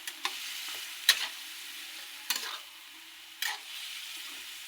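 Vegetable masala being stirred and fried in a pan, with a steady low sizzle and four sharp scraping stirs spaced about a second apart, close and clear with no talk.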